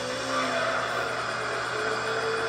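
Rally car engine droning steadily with tires skidding in the racing game Gran Turismo 3 on a wet special stage route, loud and continuous throughout with no talking.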